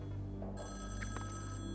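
A telephone rings in the video game Splatoon 2 Octo Expansion, a short electronic ring tone over a low steady game background hum.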